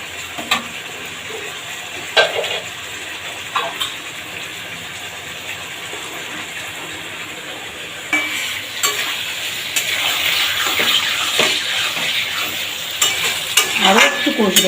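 Jhol-style gourd curry stirred and sautéed in a pan, a steady scraping and sizzling that grows louder and denser in the second half, with sharp clinks of the spoon against the pan.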